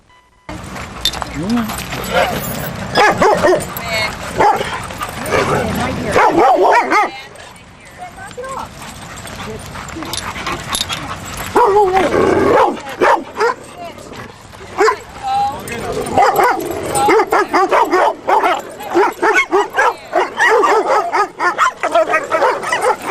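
Dogs bark and yip at a dog park entrance, loud and close, with bursts of woofs, whimpers and jangling keys, then a quieter lull before the barking picks up again in clustered volleys.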